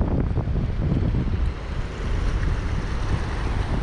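The Terek, a turbulent mountain river, rushes in a continuous broadband roar, loud and close, with no voices over it.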